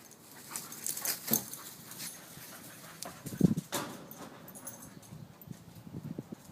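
A dog breathes in quick, rhythmic pants close by, with a few soft whimpers and scuffling noises mixed in; no one speaks.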